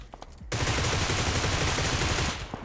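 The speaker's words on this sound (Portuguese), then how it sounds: "Tomou isso é tiro" After a short pause, a sustained burst of rapid automatic gunfire in PUBG Lite erupts and rattles continuously for about two seconds, loud and close.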